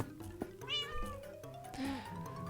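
A cat in a Minecraft animation meows, a clear drawn-out mew set over a rising tone and background music, with a second short cry toward the end.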